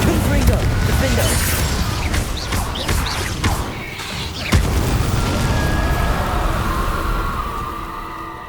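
Spell blasts in the video game Hogwarts Legacy, a dense run of booming bursts and crackling impacts over loud continuous game noise, with one sharper hit standing out midway.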